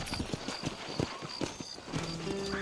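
Horse hooves clip-clop at a steady trot in the video game Red Dead Redemption, a close series of quick, even hoofbeats with a soft tonal sound near the end.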